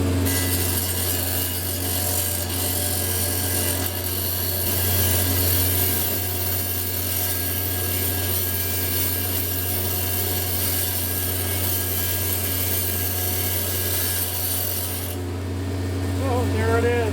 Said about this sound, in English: Now this is a lot like the other saw. It's still a little noisy, but not as bad as the other.